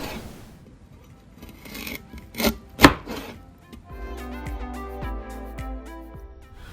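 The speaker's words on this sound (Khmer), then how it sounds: "Cut into thin slices." A knife cuts a piece of fresh ginger into thin slices on a board, first a few scattered crisp strikes, then a quick run of regular close chopping taps.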